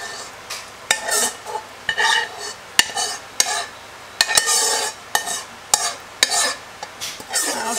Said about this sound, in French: je mets bien la sauce partout et j'appuie un petit peu pour que ça s'égalise